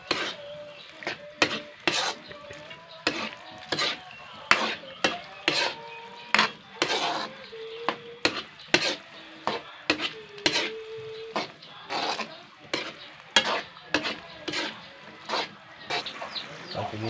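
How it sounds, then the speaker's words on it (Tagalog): Rabbit afritada being stirred in a pan with a utensil: a steady rhythm of close scraping, clinking strokes against the pan over a soft sizzle, continuing throughout with brief voice sounds in the background. "Haluin."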